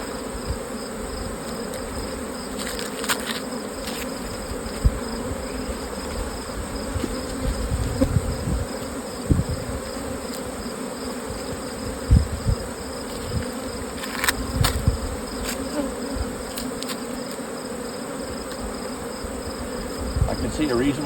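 A honey bee colony hums steadily in an opened hive during a honey flow, loud and close and continuous, with occasional brief knocks and handling sounds.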